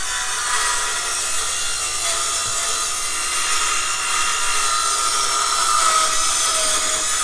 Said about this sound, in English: I'm going to wait for him to get through sawing.